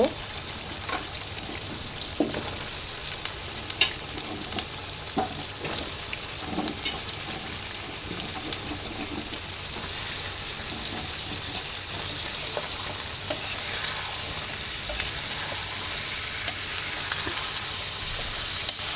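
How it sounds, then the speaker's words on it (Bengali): Prawns and cut taro stolons stir-fry in a wok, a steady close sizzle of hot oil running throughout, with occasional scraping stirs and light clinks. "চিংড়িটা কষানো হয়ে গেছে, আমি এখন কেটে রাখা কচুরলতিটা দিয়ে দেব।"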